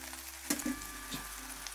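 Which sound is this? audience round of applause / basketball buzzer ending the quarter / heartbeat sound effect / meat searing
meat searing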